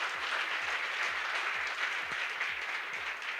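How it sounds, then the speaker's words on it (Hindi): An audience applauding an Olympic gold medallist at a motivational talk, steady dense clapping throughout, distant and fairly faint, with no one speaking. "इनके लिए जोरदार ताली होना चाहिए नीरज चोपड़ा के लिए."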